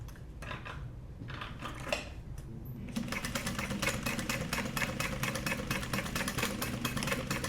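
A sewing machine stitches a Stephan Sport duffel bag, its needle tapping in a fast, steady rhythm that starts lighter and intermittent, then runs continuously and a little louder from about midway, close up with no talking.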